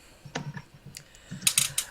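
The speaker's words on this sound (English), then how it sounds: "The only thing I can hear is your keyboard" A computer keyboard is typed on in short, uneven bursts of a few quiet clicks, alone and fairly close.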